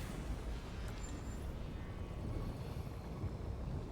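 Steady, loud engine drone of a car driving through the game Pacific Drive, a continuous low rumble that holds level for the whole stretch with no voices over it.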